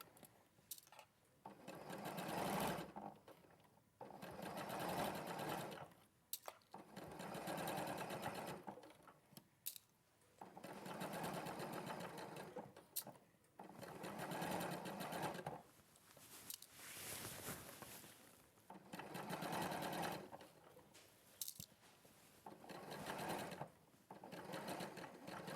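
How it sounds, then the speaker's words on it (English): A sewing machine stitches an armhole in bursts of rapid whirring, several runs of a few seconds each separated by short pauses, fairly quiet and with no talking over it. "I'm just going to stitch the armhole in."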